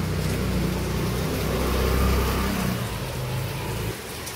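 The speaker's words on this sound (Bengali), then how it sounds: "বৃষ্টিটা আর বন্ধ হচ্ছে না।" Continuous heavy rain makes a steady broadband hiss and rumble that holds evenly for several seconds and eases slightly near the end, with no voices.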